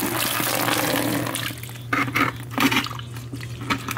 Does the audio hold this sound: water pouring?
yes